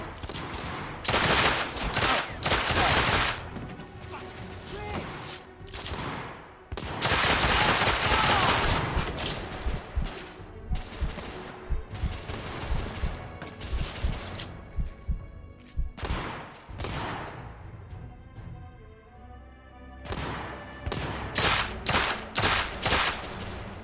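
Enemy gunfire in the video game The Order: 1886: loud, dense volleys of rapid shots in repeated bursts, with brief lulls between them.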